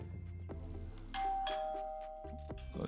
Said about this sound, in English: So even before plugging the electrical part of it, this is not even plugged, and it actually makes the sound, right?